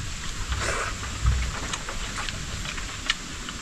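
Rain begins falling by a small river during a fishing outing, a steady hiss of drops with a low thump early on and a few sharper taps.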